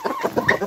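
A chicken kept in a backyard coop clucks in short, close, choppy bursts, loud and alone with no talk over it.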